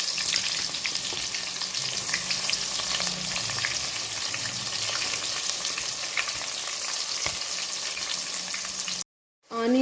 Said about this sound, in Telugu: ఆనియన్స్ గోల్డెన్ కలర్ వచ్చేంత వరకు ఫ్రై చేసుకోవాలండి.